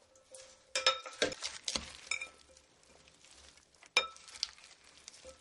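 Salad greens dressed with about half a cup of olive oil and vinegar dressing are tossed in a bowl, giving soft rustling and scattered clinks of utensils, with sharper bursts in bursts and quieter stretches between.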